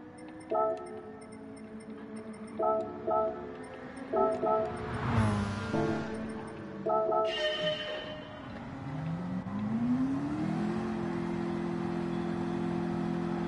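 A McLaren race car engine in Gran Turismo 7 idles and then revs, rising to a steady, sustained drone near the end, with menu ticks and chimes sounding before it.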